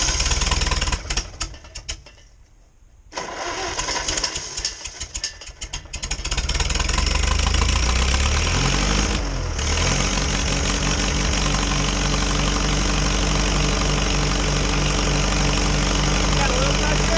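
Old Farmall H tractor that sat for years cranking, then its engine catching and settling into a loud, steady, rhythmic running chug, with voices talking over it.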